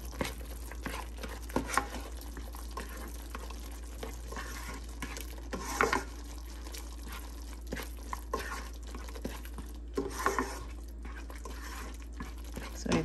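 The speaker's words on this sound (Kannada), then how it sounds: "ಸೊ ಇದೆಲ್ಲ ಚೆನ್ನಾಗಿ ಒಂದು ಮಿಕ್ಸ್ ಕೊಡೋಣ" Chicken frying in a pan as cumin powder and salt are stirred in: a soft, continuous sizzle with scattered scrapes and taps of a spoon, fairly quiet and close, with no talking.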